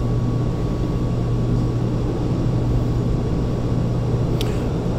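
Gardner Denver air compressor running, a loud steady droning rumble with a constant low hum and a faint tonal whine, unbroken throughout.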